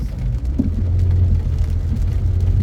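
A car driving through heavy rain in Montréal, with a low steady engine and road rumble under the constant wash of rain on the vehicle, loud and close throughout.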